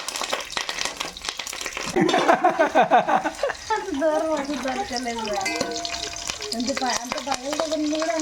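Green chilies, ginger pieces and curry leaves dropped into hot oil for pappu pongal, bursting into loud crackling sizzle with stirring, while a voice talks over the frying.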